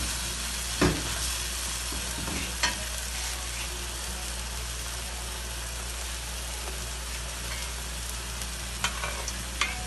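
Hot peppers sizzle steadily in oil in a pan for spicy spaghetti, a dense continuous frying crackle with a few sharper pops and no talking.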